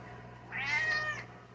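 A pet cat named in a home chat gives a single clear, drawn-out meow up close, rising and falling over about a second against a quiet room with a low steady hum.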